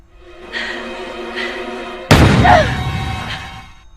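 A single sudden, loud gunshot rings out in the 2001 horror film The Others. It cuts abruptly into a quieter, sustained musical background and then decays slowly.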